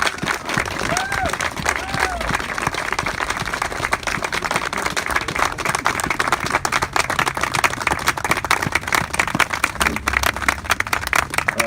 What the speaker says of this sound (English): Round of applause for our Vietnam veterans